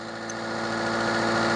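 A used car's engine idles in a steady, even hum at close range, unbroken for the whole stretch, at a budget used-car dealership in Katpadi, Vellore.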